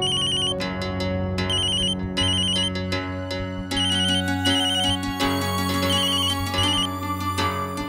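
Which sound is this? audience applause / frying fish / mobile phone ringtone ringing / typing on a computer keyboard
mobile phone ringtone ringing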